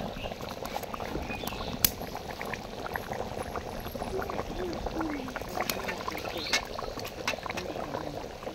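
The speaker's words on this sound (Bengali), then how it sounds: "ঝোলের পানি দিয়ে দিছি, বলক উঠে গেছে" Water poured into a pot of layer-chicken curry gravy comes to a rolling boil, with a dense, continuous bubbling and gurgling at moderate loudness and a few sharper pops throughout.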